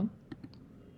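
A quick mouse click, then a couple of small, soft clicks in rapid succession. All are faint and close against a quiet background.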